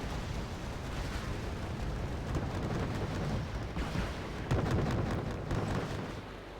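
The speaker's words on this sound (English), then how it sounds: "Coming in for a gun run." Aircraft cannon fire from a strafing gun run in the video game Wargame Red Dragon, a dense rumbling barrage of bursts and booms that swells and continues throughout with no pauses.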